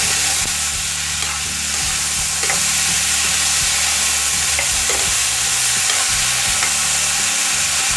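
Potato and beans for a curry are stirred in about three tablespoons of hot cooking oil, a constant dense sizzle with occasional spatula scrapes and taps against the pan.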